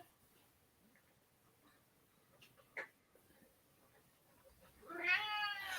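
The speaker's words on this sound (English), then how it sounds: "My cat is crying now." A domestic cat at a window gives one drawn-out, rising meow near the end, after a stretch of quiet room ambience broken by a couple of faint clicks.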